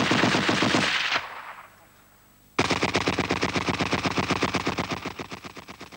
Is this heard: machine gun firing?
yes